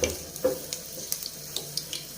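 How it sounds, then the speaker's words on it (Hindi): Two cups of water with ketchup and sugar heat in a pan for chicken Manchurian, starting to boil with faint, scattered bubbling pops and light clicks, quiet and close, with no talking. "ये बॉयल होना शुरू हो गया है।"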